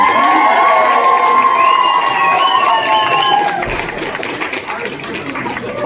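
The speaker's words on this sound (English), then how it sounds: "Can we please have a loud round of applause for the beautiful bride and groom?" Wedding guests applaud and cheer for the bride and groom, a loud dense crowd roar with shouts and whistles, fading slightly toward the end.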